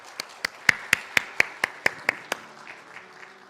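A church congregation at a Sunday worship service claps in unison. About ten sharp, evenly spaced claps ring out at a brisk beat, then give way to a faint, scattered patter that fades out.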